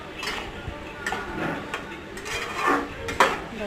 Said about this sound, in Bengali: দেখো সুন্দরভাবে কষছে